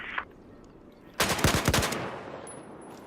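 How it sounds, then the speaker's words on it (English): A short burst of rapid machine-gun fire from the Battlefield video game breaks out after a quiet stretch, several sharp shots in quick succession that then trail into lingering noise. "Hostile machine gunner west of your position."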